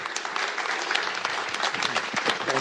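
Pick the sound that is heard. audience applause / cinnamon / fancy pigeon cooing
audience applause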